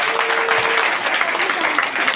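A church congregation gives loud, dense applause in thanks during a prayer service, a continuous close roar of clapping with no break.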